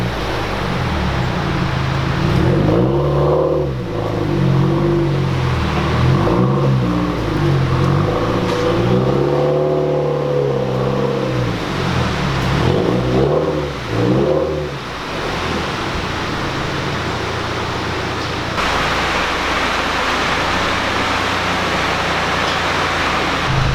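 A Subaru WRX on a dyno revs repeatedly, its engine pitch sweeping up and down in several loud pulls, then settling into a steady roaring drone toward the end.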